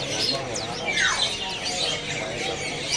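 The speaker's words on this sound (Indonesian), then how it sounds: "Di sini ada juga burung pose mandarin ya." Pose mandarin bird chirping in a market kiosk among many caged birds, busy overlapping tweets and a falling squawk standing out against constant background birdsong.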